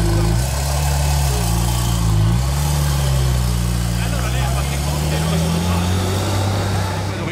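A hypercar with a non-stock engine and exhaust idles on a Monaco street during Grand Prix weekend, a loud close rumble whose pitch dips and then rises slightly as a voice talks over it.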